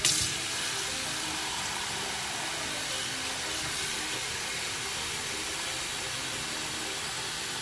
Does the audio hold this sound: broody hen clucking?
no